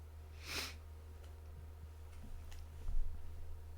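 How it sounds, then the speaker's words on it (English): A single sharp sniffle from someone with allergies, close and brief, followed by faint ticking and a soft breathy rustle over a steady low hum. "sorry about the sniffling"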